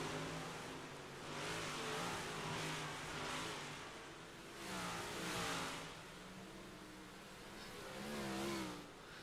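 Big block modified race cars roar around the Volusia dirt track, engines swelling and fading in repeated waves as they pass at a distance, fairly faint and continuous, with no voices.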